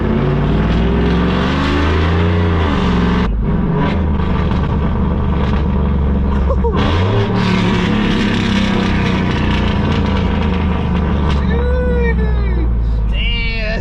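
A car fitted with new headers and a new exhaust revs loudly up close, its engine note rising and falling through repeated throttle blips, with people talking over it.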